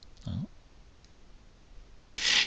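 Two sharp clicks from a computer mouse advancing a Windows 7 slideshow, one low thump early and a brighter snap at the end, separated by quiet room tone.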